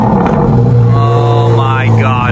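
A Corvette Z06 on its stock factory exhaust starts up and settles into a loud, close, deep idle with strong harmonic growl, with a quick rev sweeping up and back near the end and voices heard over it.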